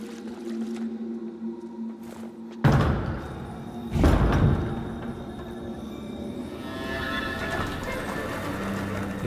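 A door opens in the video game Lords of the Fallen, with a heavy thud followed by a second loud wooden knock, then a lingering low rumble and ambient drone, no voices.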